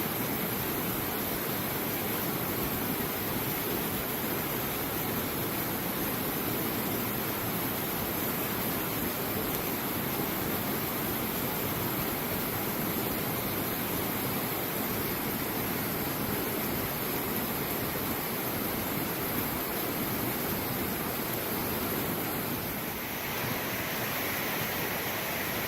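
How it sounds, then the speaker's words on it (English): Jones Waterfall on the Appalachian Trail gives a steady, dense rushing roar of falling water, close and constant throughout with no voices. "Jones Waterfall on the trail. It's absolutely beautiful."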